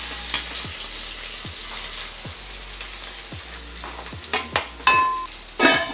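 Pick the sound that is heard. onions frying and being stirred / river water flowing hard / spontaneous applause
onions frying and being stirred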